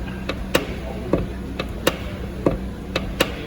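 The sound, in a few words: worn Vauxhall Astra door check straps clicking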